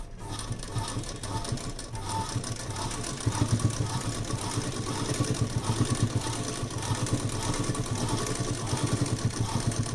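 An electric sewing machine runs slowly and steadily while stitching a thick cloth quilt, giving a continuous low mechanical whir with a faint repeating needle rhythm.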